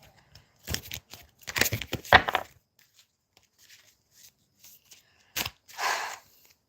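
Tarot cards being shuffled by hand, several short crisp bursts of riffling and crunching separated by quiet gaps, close up and fairly soft, with no talk over them.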